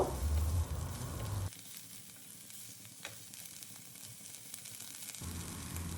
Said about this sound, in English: Now let's add the steamed veggies into the pan. On medium flame, we will stir them for a minute or so.